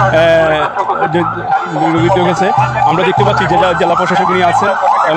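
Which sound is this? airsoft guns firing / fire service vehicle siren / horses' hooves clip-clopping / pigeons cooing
fire service vehicle siren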